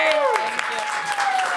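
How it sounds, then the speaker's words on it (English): An audience at a live studio trivia show breaks into applause, a dense patter of clapping with cheering voices rising over it. "Round of applause for Sierra Casey."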